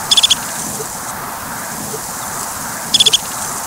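A rapid burst of four high, sharp chirps, then quiet hiss, then the same quick four-note call repeated; a person imitating a bird.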